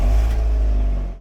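An abandoned car's engine catching and revving after a fuel-system fix, a loud steady low rumble dominating throughout, then briefly dipping and cutting near the end, with no voices.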